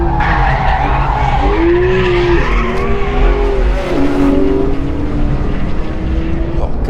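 A Porsche 911 GT3 corners hard on a race circuit in North Wales, its loud engine note rising and falling steadily while tyres scrub through the bend, close and continuous.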